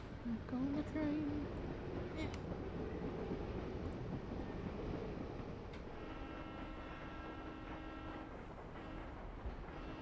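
A train rumbles in the Professor Layton video game, a dense steady roar of wheels on rails with a rattling texture and a faint sustained tone later on, while people talk over it.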